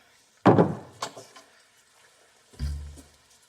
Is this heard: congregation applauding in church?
no